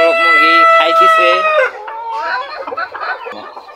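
Cochin and frizzle bantam chickens turned loose outside cluck and call loudly up close, a rooster-like sustained call at first, then softer scattered clucks and chatter from the flock.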